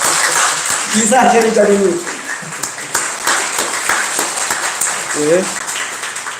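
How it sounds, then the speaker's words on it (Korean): A church congregation at a Sunday morning service claps in a broad burst of applause while someone speaks over it, and the clapping thins out toward the end. "그리고 연로하신 어르신들과 아프신 한우들을 위해 박수 칠까요?"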